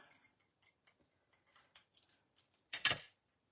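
Scissors snip through ribbon with several small, crisp clicks and one louder closing cut near the end, quiet and close in an otherwise silent room.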